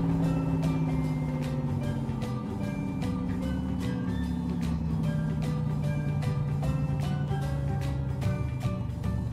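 Toy cars rolling along a street in a cartoon about Brio wooden toys, a steady engine-like drone under a bright, repeating chiming melody, fairly loud and continuous with no speech.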